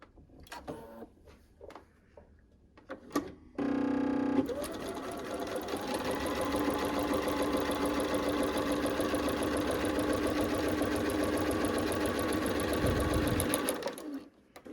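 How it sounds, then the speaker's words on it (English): A sewing machine stitches red and blue quilt pieces into half-square triangles, starting after a few soft handling clicks and then running as a steady, close, continuous whir for about ten seconds before stopping. "that's just simply taking the 2 shape 3 and sewing the red and the blue together"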